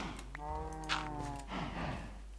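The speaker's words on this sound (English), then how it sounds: "The cows are making funny noises" Minecraft cows mooing, a single drawn-out low moo with a stuttering harmonic tone, followed by a fainter second lowing sound over a quiet game background.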